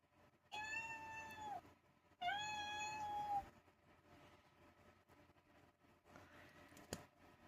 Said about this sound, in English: Alexa, play several cats meowing.